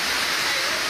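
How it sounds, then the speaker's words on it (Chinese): A violent rainstorm with strong wind in Kaohsiung: a dense, unbroken roar of rain and gusting wind, loud and steady throughout. "狂风暴雨，风的呼啸声超级大"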